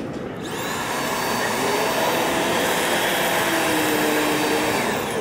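An Eden Pure vacuum cleaner runs steadily with only its revolving brush turning and no suction, a loud, continuous motor whine with brush rumble after a brief start.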